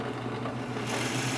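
Power drill with a laser guide boring through a wooden workpiece in a woodshop, a steady loud whirring grind that holds throughout without a break.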